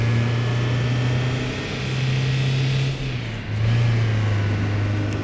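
A car engine in the driving simulator City Car Driving hums steadily and rises in pitch as it accelerates, with a brief dip around a gear change before climbing again, loud and close with no voices.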